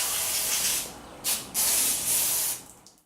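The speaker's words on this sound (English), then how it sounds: "I'm just going to wash it off a little bit with some brake cleaner" Brake cleaner sprays in several close, sharp hissing bursts over a Yamaha Banshee water pump bearing during a seal and bearing replacement, with short pauses between the blasts and no talking.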